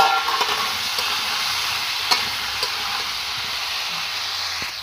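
Cauliflower florets and potato pieces frying in hot oil in a wok, a steady close sizzle and hiss with occasional light stirring clinks, no voices.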